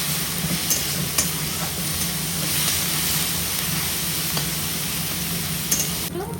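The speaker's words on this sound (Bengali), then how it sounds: "লাল লাল করে ভাজবো, আগে কাঁচা পেঁয়াজের গন্ধটা তুলে যায়।" Onions fry and sizzle in a pan throughout, a steady dense crackle with occasional stirring clicks, close and continuous with no talking.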